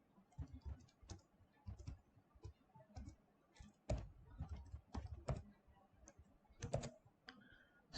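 Computer keyboard typing while entering commands in Tecplot software: quiet, irregular runs of close clicks and key taps with short pauses between bursts, no talk.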